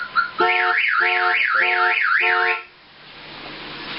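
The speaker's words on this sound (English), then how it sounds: "we'll set the alarm off again here, but this time by activating the window" A loud electronic Chevrolet S10 truck security alarm warbles rapidly up and down in a steady siren pattern for a couple of seconds, then cuts off abruptly, leaving quiet background.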